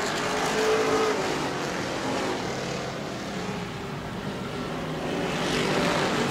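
Race cars roar down the straightaway at a weekly short-track event at Auburndale, engines droning loud and continuous with a steady, dense wash of motor noise throughout.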